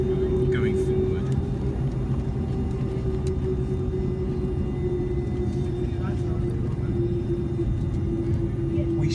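A Mahan Air Airbus A310-304 rolls forward from its parking stand at Kish, giving a loud, steady cabin rumble with a constant engine whine throughout and a few faint clicks.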